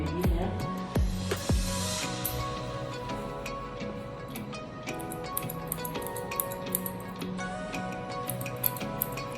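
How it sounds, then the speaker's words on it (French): Scissors snipping the baby hair along the front of a braided lace frontal wig, quiet close-up clicks and snips repeating irregularly over a soft background hum. "Là je vais couper mes baby hair."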